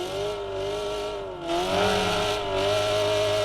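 A car's open exhaust in the Assetto Corsa racing game roars loudly and continuously, the engine note dipping briefly then surging back up in a sustained racing drone.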